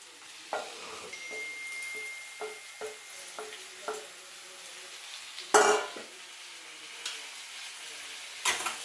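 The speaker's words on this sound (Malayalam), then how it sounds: "ഇനി ഇത് ഒന്ന് നന്നായിട്ട് ഇതും വഴണ്ട് വരണം." Chopped tomatoes being sautéed for egg roast, stirred around a pan: a quiet steady sizzle broken by several short stirring scrapes and a couple of louder clatters, with no talking.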